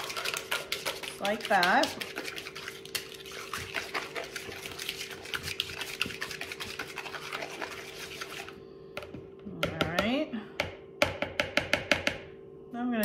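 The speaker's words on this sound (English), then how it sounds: "now I'm just gonna go ahead, whisk my egg real quick" An egg is whisked briskly in a bowl for everything-bagel chaffle batter, giving a fast, steady run of scraping and clinking against the sides, with a low hum underneath and brief bits of talk.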